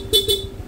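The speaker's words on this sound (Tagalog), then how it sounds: "stock horn." Stock horn of a Honda Click160 scooter giving two quick short beeps, loud and close, over a faint background hum.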